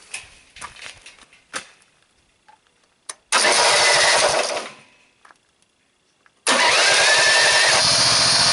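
A small engine driving a DC generator with a pulley-driven PMA gets a few cranking attempts, then catches and runs loudly for a couple of seconds, dies off, and fires up again into a steady close roar.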